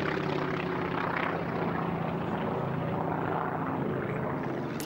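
A Martlet fighter in 846 Naval Air Squadron markings drones overhead at an airshow, its radial propeller engine giving a steady, loud, buzzing roar that holds throughout with slight swells as it passes.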